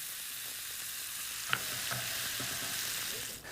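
Ground beef and chopped onion browning together in a skillet of bacon drippings, a steady low sizzle with a few soft stirring scrapes, heard close and alone.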